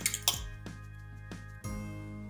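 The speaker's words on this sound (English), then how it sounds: "just going to give the egg a whisk" An egg being whisked in a bowl for schnitzel, heard as a handful of sharp, irregular metallic clinks of the utensil against the bowl, close and fairly quiet, with no talking.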